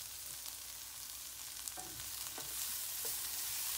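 Guatemalan-style chow mein with chicken fries in a pan, a quiet continuous sizzle with a few faint stirring clinks, growing slightly louder toward the end.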